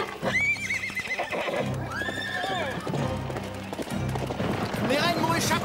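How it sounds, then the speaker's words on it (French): A bolting horse whinnies loudly several times while hooves clatter at a gallop, with shouting voices and commotion throughout. "Le cheval s'emballe."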